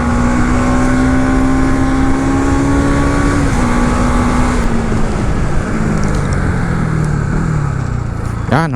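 Bajaj NS 200 motorcycle engine running loud and close, a sustained droning note that holds steady, then dips and slowly drops in pitch toward the end, with no talking.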